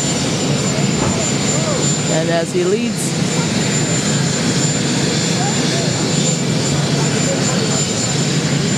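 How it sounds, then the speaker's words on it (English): Presidential helicopter at JFK airport, a loud, steady roar of engine and rotor noise that fills the whole stretch while someone talks over it. "He's going off into the helicopter."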